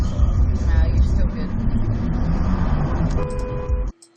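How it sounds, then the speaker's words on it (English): A Dodge Charger's horn gives a short honk as a truck drives past, heard near the end over a busy rumble of passing traffic. "the truck drives by, and this guy in the Charger honks his horn"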